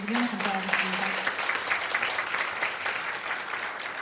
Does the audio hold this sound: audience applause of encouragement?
yes